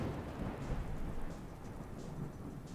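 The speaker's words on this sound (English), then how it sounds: "Just took a nap and woke up to rain." Steady rain pours down with a deep, continuous thunder rumble underneath in the video game Fallout 4, a dense and even storm sound with no voices.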